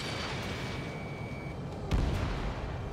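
A missile explosion hitting a ground target in the jet combat game Ace Combat 7, a single deep boom bursting over a constant roar of engine and background noise.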